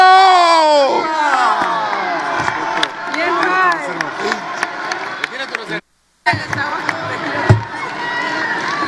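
Applause and cheering fill a legislative chamber in Mexico. A dense crowd roar runs under overlapping voices, broken by a brief silent gap before the noise resumes.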